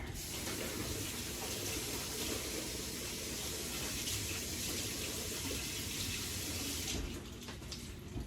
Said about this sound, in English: Get my hands washed here.